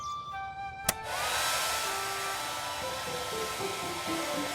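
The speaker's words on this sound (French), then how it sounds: "On allume le sèche-cheveux." A click followed by a hair dryer whirring up to a steady, loud airy roar with a whining motor tone that holds throughout.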